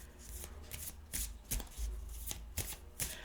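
A deck of oracle cards being shuffled by hand, with repeated riffling bursts at a steady rhythm, close and clear, and no talking.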